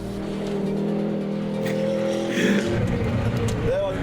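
A Hennessey Venom hypercar engine revs up, its growling note climbing in pitch over a few seconds, with voices faintly mixed in.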